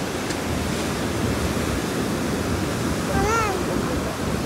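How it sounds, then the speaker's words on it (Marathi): Sea waves wash onto a clean beach in Konkan, a steady broad roar of surf close by, with a short voice heard over it near the end. "एवढ्या लाटा आहेत बाळा"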